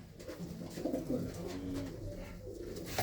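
Pigeons cooing in a loft, soft low rolling coos repeating close by over a steady murmur of background noise.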